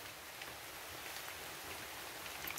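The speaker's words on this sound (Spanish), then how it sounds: "pero si sí está lloviendo" Rain falls on an outdoor cooking area in a soft, even hiss, faint and continuous with no distinct drops standing out and no voices.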